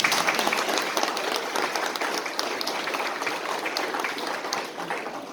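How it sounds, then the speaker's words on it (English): An audience at a municipal candidate forum gives a round of applause, dense clapping that starts at full strength and tapers slightly as it continues, without speech over it. "Let's give them a round of applause."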